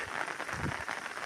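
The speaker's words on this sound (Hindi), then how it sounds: "और ये बारिश बड़े अरसे बाद हुई है।" Steady rain falls during an uphill hike, a continuous broadband hiss of drops that stays even and close throughout, with no talking.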